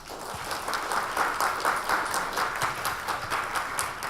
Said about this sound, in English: please round of applause for Chungbo.